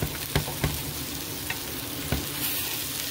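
Basil sautéing in oil in a pan, a soft steady sizzle with a few sharp clicks and stirring knocks scattered through it.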